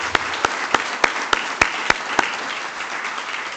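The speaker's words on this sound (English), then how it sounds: "Can we please give Tony a round of applause for coming out with us today?" A church congregation applauds, a steady wash of many hands clapping with a few sharper individual claps standing out at a regular pace, lasting several seconds.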